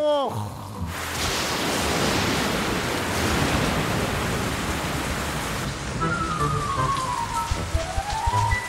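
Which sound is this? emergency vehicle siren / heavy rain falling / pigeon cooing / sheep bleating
heavy rain falling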